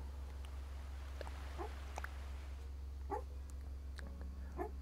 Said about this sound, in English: That noise there that you can hear is a dreaming dog.